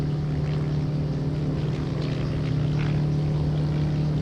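Hughes H-1B racing plane engine at full power during a low flyby in a flight simulator, a loud steady droning hum with a strong low tone, continuous and unbroken with no talk.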